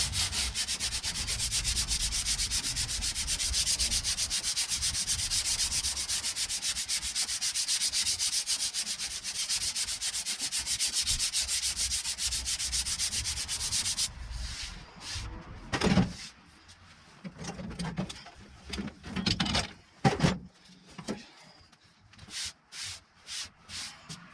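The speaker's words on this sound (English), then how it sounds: "So I'm just going to sand the top off" The bonnet of a Subaru Impreza is hand-sanded with steady, close rasping strokes for about fourteen seconds, then a run of shorter, uneven scrapes and knocks.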